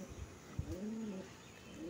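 A pure white pigeon coos in a few soft, low rolling calls close by, with a faint tap and quiet background, no speech.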